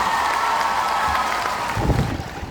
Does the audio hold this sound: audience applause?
yes